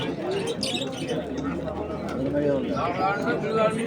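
Pigeons coo in soft overlapping calls at a pigeon market in Asaka, with people chattering nearby throughout.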